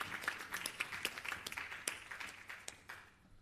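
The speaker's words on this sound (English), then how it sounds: "So I want us to applaud the Norwegian government for having the foresight" Audience applause at a regional launch event, faint and distant, a dense patter of many hands clapping that thins and fades out toward the end.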